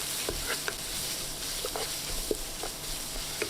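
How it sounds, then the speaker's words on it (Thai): Minced pork loin stir-fries in a hot pan, giving a steady close sizzle broken by scattered scrapes and light taps of the spatula as the meat is pushed around, with no voices. "แล้วก็ใส่เนื้อหมู สันนอกสับ ลงไป 250 กรัม ผัดไปเรื่อย ๆ จนกว่าหมูจะ สุก"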